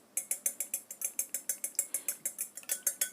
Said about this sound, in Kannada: ಬೀಟ್ ಮಾಡ್ಕೊಳ್ತಿದ್ದೀನಿ.